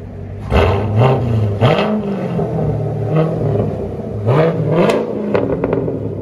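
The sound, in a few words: Chevy Corvette Z51 engine revving, heard from inside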